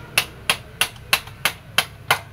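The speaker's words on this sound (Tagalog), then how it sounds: "Pukpok talaga, kalawang kasi to, kalawang oh." Seven sharp metallic hammer blows strike a rusted, stuck screw on an XR200 engine, evenly spaced about a third of a second apart, close and loud against a quiet background.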